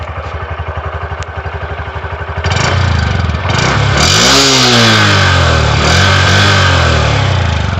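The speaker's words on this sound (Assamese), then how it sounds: "ইয়াৰ লগতে আছে সেল্ফ ষ্টাৰ্ট এইটো ষ্টাৰ্ট হৈ গ'ল গাড়ীখন" A Honda Shine SP125 motorcycle engine idles with a steady throbbing putter, then self-starts louder with a rising whine before settling into a strong, even idle, close by.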